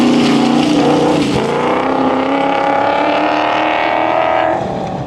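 An off-road rally cruiser's engine roars loud and close through a special stage, a steady, sustained drone with a brief dip partway before it eases slightly at the end.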